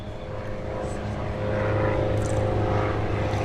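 A Mooney Anomaly airplane makes a flyby at the Sun 'n Fun airshow, its propeller engine drone swelling louder as it passes, with a public-address voice speaking over it.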